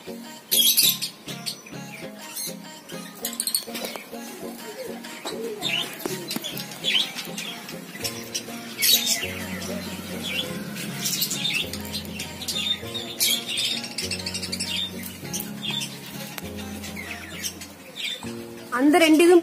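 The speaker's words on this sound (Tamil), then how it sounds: "ஸோ இங்க வந்து பாத்தீங்கன்னா நிறைய லவ் பேர்ட்ஸ் இருக்கு" A flock of lovebirds in an aviary keeps up busy chirps and sharp squawks, layered over a steady tonal background, with a loud burst at the end.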